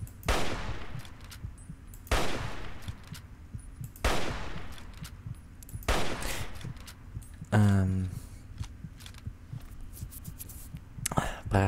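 Gunfire in the post-apocalyptic shooter Fallout 3: loud, sharp single shots at roughly two-second intervals, each with a short ringing tail, plus a brief tonal game sound between the later shots.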